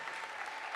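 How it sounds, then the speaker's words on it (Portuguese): A church congregation at a cell leaders' meeting in Brazil applauds, making a brief, steady wash of clapping that sounds faint and distant. "Você pode aplaudir forte ao Senhor?"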